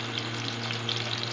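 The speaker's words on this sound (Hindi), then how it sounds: "अब हम इसमें 3 प्याज हैं, हमने उनको काट के तो फ्राई कर लेंगे" Chopped onions fry in hot ghee with a brief, close, steady sizzle and crackle, and nobody speaks over it.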